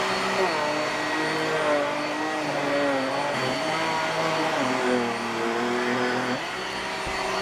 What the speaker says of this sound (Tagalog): pwede mo din gamitin tong Genie vacuum para sa mga unan nyo dahil meron tong UV light